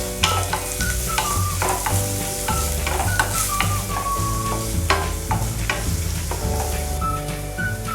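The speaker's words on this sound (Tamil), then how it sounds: "இதையும் நல்லா வதக்கி விட்டுக்கலாம்." Half a carrot and four or five beans being sautéed in a pan: a steady loud sizzle with repeated scraping stirs of a spoon against the pan, close and continuous, no voices.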